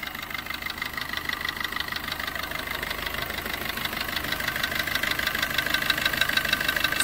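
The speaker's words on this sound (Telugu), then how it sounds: "ఇంజన్ బండి అయితే రన్నింగ్లో ఉంది" A 2016 Maruti Suzuki VDI diesel car engine idles close by, a steady rattling hum with a fine rhythmic knock that stays constant and slightly builds, with no talk.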